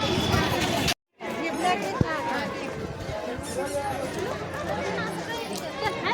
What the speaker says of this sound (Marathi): खूप गर्दी आज.